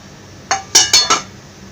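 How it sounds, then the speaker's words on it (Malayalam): Chopped pineapple pieces tipped into a pressure cooker for pineapple pachadi, giving four quick metallic clinks and clatters in close succession, loud and near with no talk. "ഇനി ഇതൊരു കുക്കറിലേക്ക് ഇട്ട് കൊടുക്കാം."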